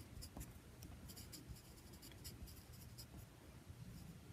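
A graphite pencil shades on paper in a steady circular motion, producing a faint continuous scratchy rustle with slight rhythmic swells, quiet and close.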